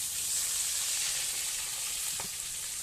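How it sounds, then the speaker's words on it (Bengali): Potatoes sizzle steadily in hot oil in a pan while an egg curry is prepared, a close, continuous frying hiss with small crackles and no voices. "এবার আলুগুলো ভেজে নেব।"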